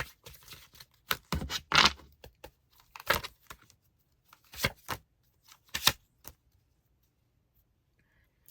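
Tarot cards are shuffled and drawn in a few quick, papery bursts of riffling and snapping, separated by short quiet gaps, close and fairly soft with no voices.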